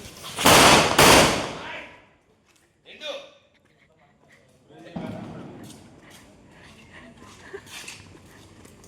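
Two loud, sharp bangs from a bullet bomb firecracker go off close together at the start, followed by a smaller pop and then people talking.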